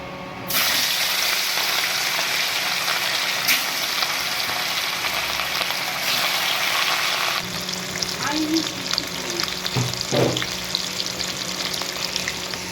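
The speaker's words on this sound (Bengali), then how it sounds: "এই যে আমাদের তেল গরম হয়ে গেছে এবার মাছ ছাড়ার পালা" Rohu fish pieces dropped into hot oil burst into a loud, steady sizzle that fills the kitchen, then settle into a lower crackle with a few clinks of a utensil near the end.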